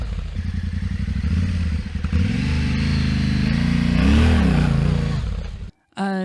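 Adventure motorbike engine climbing a short steep off-road slope without momentum, loud and steady with rising revs, clattering and thuds over rough ground, then abruptly cutting out near the end.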